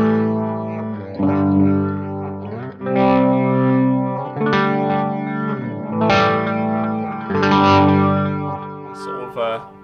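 Electric guitar played through a Boss MS-3 multi-effects switcher patch, with phrases of chorused, distorted tones washed in reverb and echo, loud and close, in several bursts separated by short gaps.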